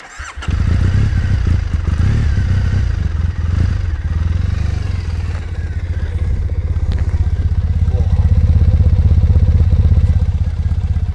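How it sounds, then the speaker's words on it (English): A Triumph Bonneville T100 motorcycle with stock exhaust pipes starts and rumbles loudly with a deep pulsing exhaust, revving up and down close by, growing stronger toward the end. "let you hear her exhaust"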